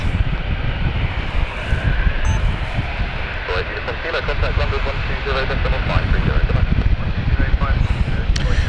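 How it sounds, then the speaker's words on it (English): An Air Transat Airbus A330-200, 23 years old, departs Gatwick Airport bound for Toronto, its engines a loud, continuous roar with some wind buffeting throughout. "Air Transat with their Airbus A330-200 here, heading off to Toronto"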